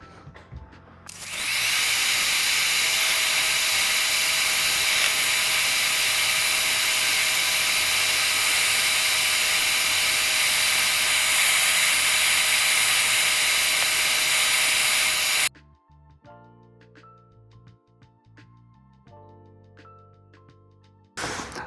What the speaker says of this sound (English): just using the rattle can of white, just sprayed over everything to get it all white